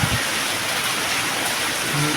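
Heavy rain pours steadily in Nagercoil, a dense, constant broadband hiss close by with no breaks, filling the whole stretch alone.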